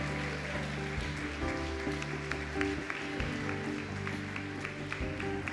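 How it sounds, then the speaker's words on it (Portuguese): A church congregation claps for the Lord during a family worship service, a steady, dense wash of applause running throughout over sustained music tones from the sanctuary. "Aplauda ao Senhor."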